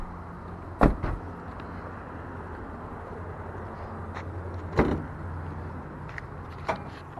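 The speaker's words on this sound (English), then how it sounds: "let's go ahead and take a look under the hood" Hood of a 2011 Toyota Camry LE is opened, a couple of sharp metallic clunks and a latch click against a steady low outdoor hum, close and moderately loud, with no talking.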